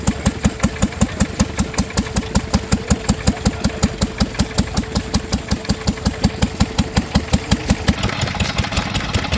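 A Lister stationary engine runs steadily while driving a Lister pump at a Victorian-themed show, its close, even chugging beat carrying through the whole stretch with a slight change in tone near the end.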